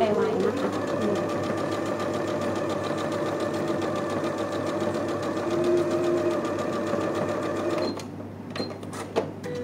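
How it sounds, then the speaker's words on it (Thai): Sewing machine stitching a seam in patchwork fabric, a steady close motor hum and rapid needle chatter running for about eight seconds before stopping, followed by a few light clicks and handling sounds. "เดี๋ยวจะเย็บอีกเส้นนึงนะคะ"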